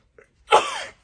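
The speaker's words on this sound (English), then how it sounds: "I need to sneeze." A single sharp sneeze bursts out close by after a faint intake of breath, trailing off quickly.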